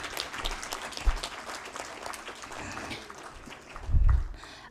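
An audience at a conference valedictory event gives a steady round of applause, moderately loud with many hands clapping, swelling briefly near the end.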